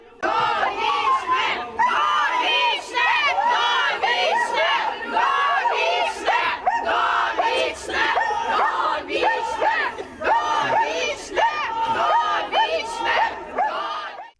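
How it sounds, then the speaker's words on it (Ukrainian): Crowd outside a court building shouting opposing chants of "life sentence" and "freedom" as a murder suspect is led away to a detention centre, loud continuous massed yelling with rhythmic bursts of chanting throughout. "Проводжають Зінченка до СІЗО вже традиційно під вигуки довічно з одного боку та волю з іншого."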